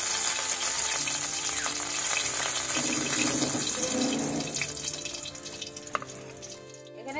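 Fish and fish head frying in oil for a Bengali muri ghonto, a dense continuous sizzle with a bubbling, watery hiss that eases slightly toward the end, plus an occasional clink.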